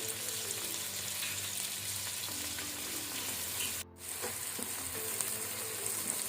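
Onions frying with salt on a medium-high flame for a methi matar pulao, a steady close sizzle and crackle that continues throughout, broken by one brief dropout.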